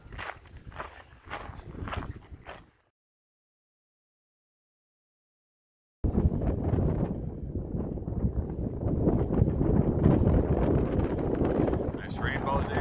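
Strong wind in Glacier National Park, Montana: after crunching footsteps and a moment of silence, a loud, continuous roar of gusting wind buffets the microphone, close and unbroken to the end.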